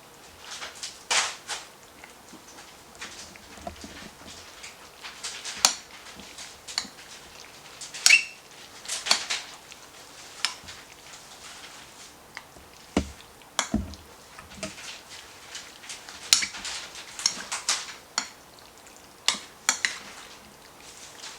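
Raw beef mixed with corn oil in a bowl, soft wet squelches and stirring under scattered sharp clicks of utensil against the bowl, quiet and close.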